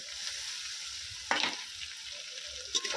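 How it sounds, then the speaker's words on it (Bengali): Ginger-garlic paste hits hot oil with fried onions for a rohu fish kalia, giving a steady close sizzle with a sharp burst of louder frying partway through and a brief flare near the end, no voices. "প্রথমে একটু ভালো করে ভেজে নেব পেঁয়াজটা আমি তেলের মধ্যে খুব ভালো করে ভেজে নিয়েছি এবারে দিয়ে দেবো রসুন বাটা আদা বাটা"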